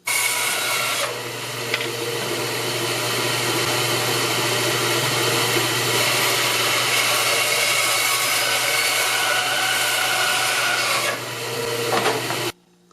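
A saw cuts a dried log of tulip poplar or American beech into thin rounds, loud and close, as a continuous whining buzz that runs for over ten seconds with only brief dips.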